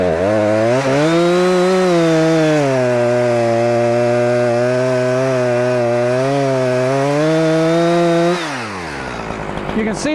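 Chainsaw cutting through a tree during hinge cutting, loud and close, its engine revving high and steady for about eight seconds before dropping back to a low idle.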